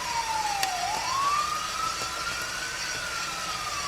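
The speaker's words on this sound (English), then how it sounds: "Some police sirens, but also first crack." Police sirens pass outside during a night-time coffee roasting session, a single wailing tone sweeping down then slowly rising and holding, moderately distant, over a quiet background hiss.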